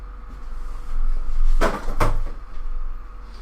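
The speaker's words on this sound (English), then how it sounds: "I will go shut my window and turn my heater." A window in a cold room is shut, making two sharp, close knocks about half a second apart over a low background hum, with no voices.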